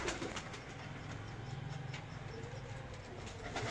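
Teddy pigeons of the Chaudhry Saki bloodline give soft, low, rolling coos at close range against a steady background rumble, with no talking.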